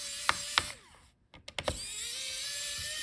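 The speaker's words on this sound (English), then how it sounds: "Unscrew all the screws" A screwdriver works on the heatsink and fan screws inside a Lenovo Legion Y540 15IRH laptop during teardown, giving a few close sharp clicks and a short whirring mechanical burst over steady background hiss.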